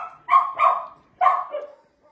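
Young shelter puppies barking, three close, loud yaps in quick succession, the first two back to back and the third after a short pause, trailing into a brief whimper.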